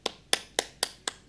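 Hands clap during a Sunday church service: six sharp, evenly spaced claps in just over a second, close, crisp and steady, with no voices over them.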